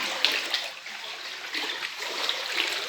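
Flood water from heavy rain inside a school office and corridors in Kota, Rajasthan, giving a steady watery sloshing and splashing wash with small splashes, close and moderately loud, no talk.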